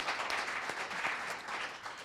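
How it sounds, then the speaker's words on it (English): Audience applause at a men's community event, a dense steady wash of many hands clapping at close-to-moderate distance, sustained and alone for about two seconds. "give him a round of applause."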